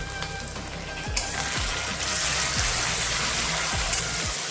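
Chopped tomato goes into a hot frying pan with cinnamon stick and cloves for mutton brain bheja fry, giving a steady loud sizzle with occasional soft stirring knocks and no talking.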